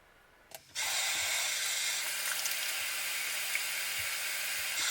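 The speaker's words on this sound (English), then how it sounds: "I'm going to be washing my face" Tap water runs steadily at a bathroom sink during a face wash, a continuous broadband hiss that starts abruptly after a brief thud and stays fairly loud and even throughout.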